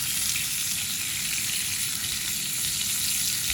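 Seasoned limpets sizzle and fry steadily on a camping barbecue grill beside a truck, a continuous close, even crackling hiss with no voices.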